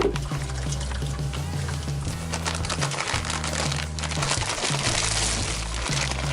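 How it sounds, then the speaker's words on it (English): Hot water pours steadily into a container with a continuous splashing gush, close and fairly loud, under a low humming background, while homebrewing beer. "we've got to get lots and lots of hot water in here"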